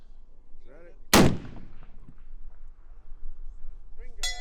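A long-range rifle fires at a shooting competition, one sharp loud crack that booms briefly, with commentators talking quietly before and after.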